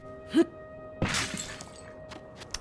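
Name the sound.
smashing a pot in video game Zelda Tears of the Kingdom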